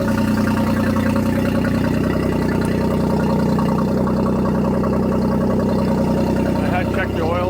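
Steady, loud idle of a 2024 Tohatsu MSF40A jet outboard, a constant droning hum with an even mechanical pulse running throughout without change.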